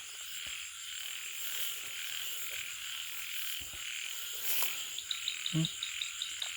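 Frogs croaking outdoors at night during frog hunting with hooks, a dense chorus of insects and crickets filling the background, and a few nearer, louder croaks breaking through toward the end.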